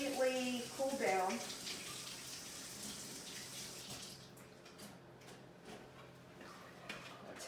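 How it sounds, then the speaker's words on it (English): Cold tap water runs steadily over a temporary crown matrix, a continuous close splashing hiss, with a person talking over the first second. "run it under cold water to make sure that it's completely cooled down"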